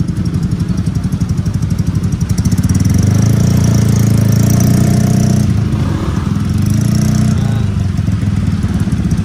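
A motorcycle engine idles with a steady low throbbing rumble, close and loud, amid congested city traffic in Naga City, with no talking.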